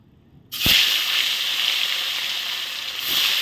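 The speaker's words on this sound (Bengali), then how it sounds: "এই দেখো তেল গরম হয়ে গেছে, আস্তে আস্তে এখন আমি মাছগুলো ভেজে নিই" Pieces of fish dropped into hot oil in a pan, bursting into a loud, steady sizzle after a brief quiet start that keeps crackling evenly throughout.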